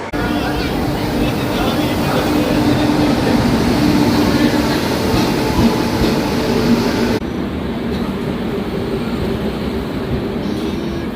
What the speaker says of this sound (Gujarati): ટ્રેન નંબર છે 20:9:24, પ્લેટફોર્મ નંબર 7 પર આવશે.